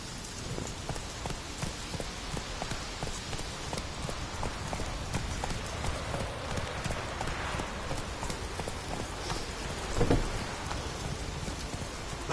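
Roach the horse galloping in The Witcher 3: Blood and Wine, rapid rhythmic hoofbeats continuing steadily over a rain-like wash, with a brief louder thud near the end.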